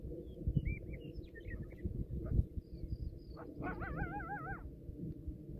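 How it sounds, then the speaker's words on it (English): Distant dog barking and yelping on a farm in a few short bursts, faint over a steady low rumble of wind and outdoor noise. "he just started barking while I was on the top of the hill here"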